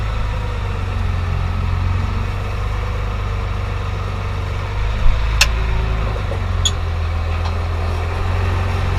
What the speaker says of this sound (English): But seeing as this has primarily been a tillage tractor